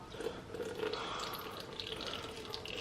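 Liquid drains from crab meat into a sink, a soft continuous trickle and splash heard close and fairly quiet, with no talking.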